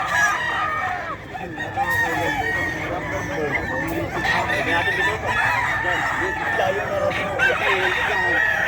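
Chickens and roosters fill a busy Bocaue pet market with dense, overlapping clucks and crowing, a steady close crowd of fowl with no pause, while people talk faintly underneath.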